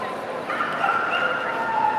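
Show dogs yipping and whimpering amid the hubbub of a Long Beach Kennel Club conformation show, a continuous noisy indoor crowd bed with thin high dog cries rising over it.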